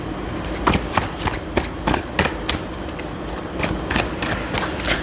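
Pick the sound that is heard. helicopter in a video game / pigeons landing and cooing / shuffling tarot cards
shuffling tarot cards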